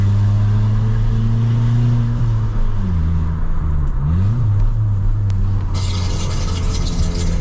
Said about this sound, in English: this is a good place to hear the exhaust